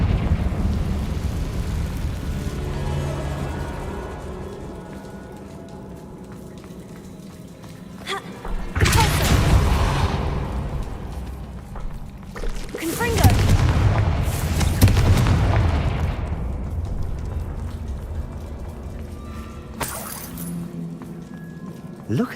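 A Confringo fire spell goes off in the Hogwarts Legacy video game, loud booming fiery blasts arriving in bursts over a low ambient rumble.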